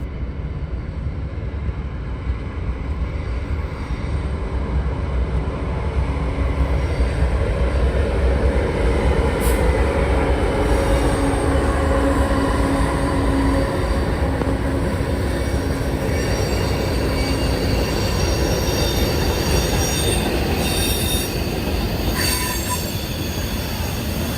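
A train rumbles steadily past on the rails, its wheels squealing with a continuous metallic screech that holds loud and close throughout.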